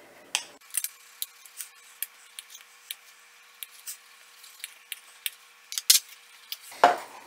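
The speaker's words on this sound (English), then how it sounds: "So what we're going to do with our hot dogs is we're going to go ahead and slice these up." A knife slices hot dogs into half-inch pieces, giving a steady series of short, crisp taps against a cutting board with a louder knock near the end.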